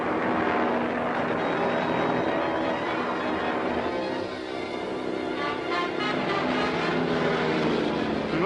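A propeller airliner's engine drones loud and unbroken as a sound effect in an old-time radio adventure serial, filling the whole stretch with a dense roar that dips slightly midway.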